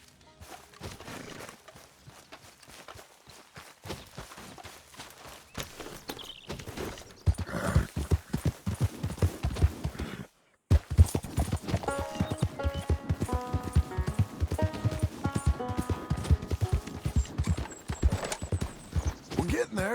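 Horse hooves clip-clopping in Red Dead Redemption 2, a steady walking rhythm of close, distinct hoof strikes that runs through the whole stretch beneath game music and occasional talking voices.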